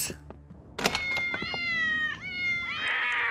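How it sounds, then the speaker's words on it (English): Cats meowing up close: a loud, drawn-out yowl that wavers and dips in pitch, followed by a second rising caterwaul after a few short knocks at the start. "Getting rid of all them cats."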